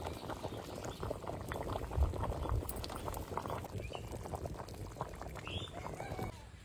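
Meat curry boiling in a pot over a village cooking fire, a steady bubbling and popping simmer at moderate level, close by and continuing without a break.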